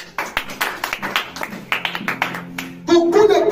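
A church congregation claps for Jesus in a quick, uneven run of hand claps, followed by a short burst of voices and sustained tones.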